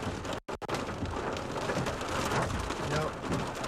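Large, quarter-sized hailstones pelt down during a severe storm in the Texas Panhandle, a dense steady roar of impacts with a brief sharp break, close and constant throughout.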